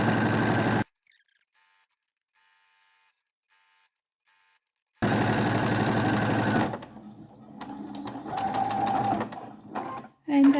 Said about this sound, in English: top stitch and close the top edge